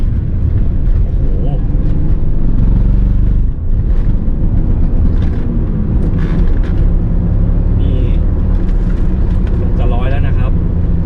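A BMW 323i E36 from 2000, automatic, roars as it accelerates hard in second gear, a loud, steady engine and road drone filling the whole stretch while someone talks over it.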